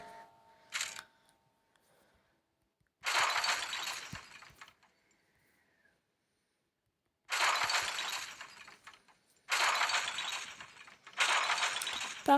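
Objects smash and glass shatters in a horror video game, with several loud crashing bursts separated by silent gaps.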